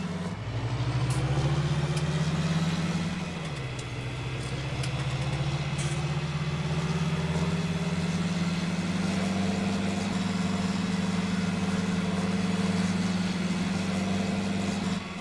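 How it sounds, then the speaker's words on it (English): A tractor engine idles steadily in Farming Simulator 19, a low continuous rumble with a brief dip in pitch near the start before settling into an even drone throughout. "I love this tractor, by the way. This tractor sounds so sweet."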